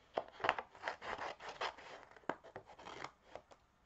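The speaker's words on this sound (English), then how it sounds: "I'm just going to cut a piece out." Scissors snip through a piece of brown velveteen paper in a papercraft session, a quick series of close, crisp cuts and rustles with short pauses between strokes.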